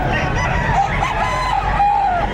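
Chickens and roosters at the Padre Garcia livestock auction market in Batangas, with a rooster crowing twice, long drawn-out calls, over continuous clucking and busy crowd noise.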